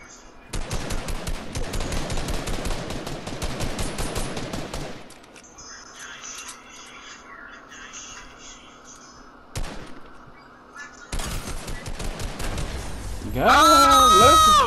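Rapid automatic gunfire from the video game Fortnite, long dense bursts of shots with pauses between, ending in a louder burst with a voice over it.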